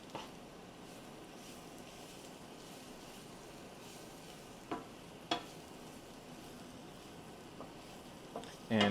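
Meat with taco seasoning sizzles in a hot pan as it is stirred, a soft continuous frying hiss broken by a few scraping clicks from the utensil, close and quiet with no talking.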